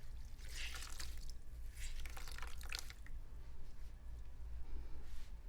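Wet washcloth being wrung and rinsed in a basin during a bed bath, soft trickling and dripping water in several bursts, close and fairly quiet, with no talking.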